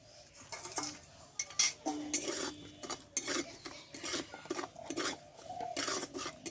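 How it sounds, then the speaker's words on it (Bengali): Curry leaves stirred in a pan with a metal spoon, giving repeated scraping and clinking strokes in an uneven rhythm over a faint sizzle, close by and with no voices. "দেখো ভালোভাবে একটু নাড়িয়ে নিয়েছি"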